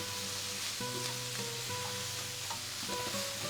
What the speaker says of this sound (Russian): Пассерую все вместе пару минут.